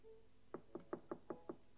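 Knuckles rapping on a hotel room door, six evenly spaced knocks in a steady rhythm after a brief pause, crisp and close but fairly quiet, with no talking.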